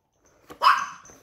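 A single sharp dog bark, close and fairly loud, preceded by a soft short yip, with no talk around it.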